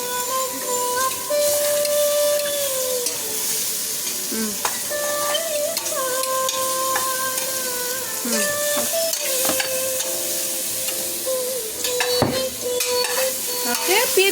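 Ridge gourd sambar mixture stirred in a pot, with a steady scraping, clattering run of utensil strokes over a soft sizzle, close and fairly loud throughout with no talking.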